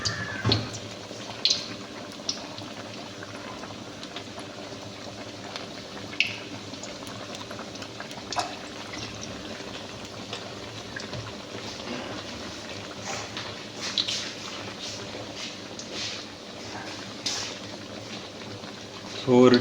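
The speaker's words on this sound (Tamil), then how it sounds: "இந்த மாதிரி அழுத்தி விட்டுட்டு ஆயிலில் ட்ராப் பண்ண வேண்டியது தான்" Onion vadas, Kerala style, deep-frying in hot oil: a steady, close bubbling sizzle runs throughout, with scattered small pops and crackles.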